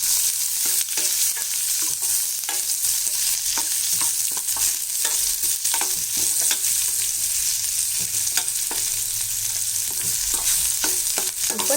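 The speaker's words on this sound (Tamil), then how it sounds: "இப்போ இந்த வெங்காயத்தை நல்லா வதக்கி விட்டுடலாம்" Dried red chillies, ginger and onion sauté in a pan for a South Indian tomato side dish, with a steady, fairly loud frying sizzle throughout and frequent sharp scrapes and clinks of a spoon stirring against the pan.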